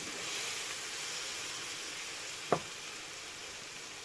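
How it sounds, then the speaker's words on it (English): Flour-coated liver frying in a pan, a soft steady hiss of sizzling fat with one sharp clack of a utensil partway through, no talk. "that's all the liver coated and put into the frying pan. And it's literally just cooking it for a few minutes."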